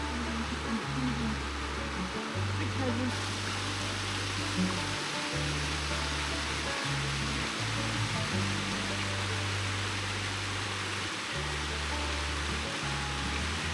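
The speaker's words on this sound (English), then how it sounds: "So we can hear a little bit more water down here. It sounds like it's moving" A stream flowing near waterholes in a national park, a continuous broadband rush of moving water, steady and fairly close, with low thumping sounds underneath.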